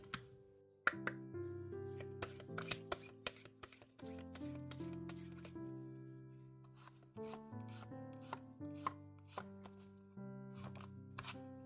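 Oracle cards being shuffled during a tarot reading: a series of soft riffling taps and clicks under steady, gentle background music.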